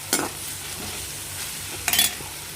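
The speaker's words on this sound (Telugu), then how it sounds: "తాజాగా నూరి పెట్టుకున్న అల్లం వెల్లిపాయ పేస్ట్ పచ్చి వాసన పోయేంత వరకు నేను మంచిగా వేయించుకుంటాం." Freshly ground ginger garlic paste fries in a pan with a soft, steady sizzle, broken by two brief, louder scraping stirs near the start and end.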